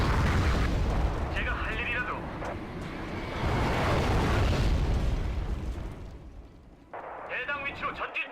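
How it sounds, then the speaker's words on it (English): Heavy explosions from an artillery barrage in the war strategy game Wargame Red Dragon, with loud, continuous rumbling blasts and crackling bursts, and a voice talking over parts of it. "That was quite a brutal artillery barrage there"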